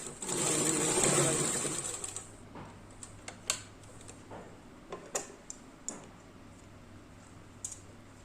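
A sewing machine stitches lace onto a Punjabi suit: about two seconds of loud, continuous whirring run, then the motor stops and scattered light clicks and ticks follow.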